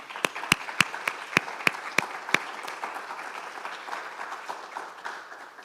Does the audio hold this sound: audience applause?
yes